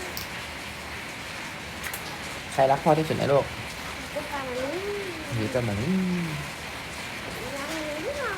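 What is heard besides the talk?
heavy rain falling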